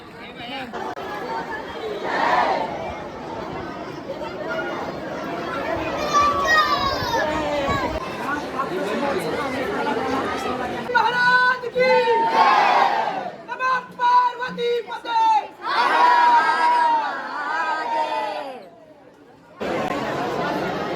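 A noisy crowd of people at a busy spot in Lonavala, with dense overlapping chatter, children's shouts and excited voices rising and falling close by throughout.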